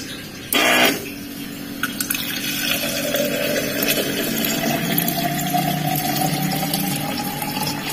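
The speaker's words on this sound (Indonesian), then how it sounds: "ini adalah contoh wadah yang saya buat maka dia akan mengisi secara otomatis" An automatic water depot filling system, with a load cell weighing the container, starts with a sharp click and then pumps water steadily into the container. The rushing fill continues close and constant with no talk.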